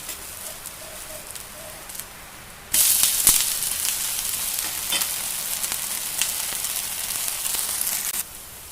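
Onion rava dosa sizzles on a hot pan, a steady bright frying hiss that jumps louder midway as batter or oil hits the surface and carries on evenly until it drops back near the end.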